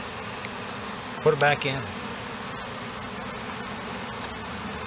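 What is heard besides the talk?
honey bees buzzing around hive frames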